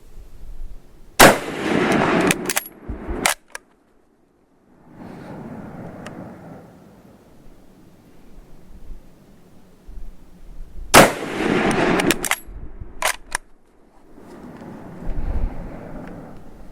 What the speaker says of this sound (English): Okay, so those were not well aimed shots.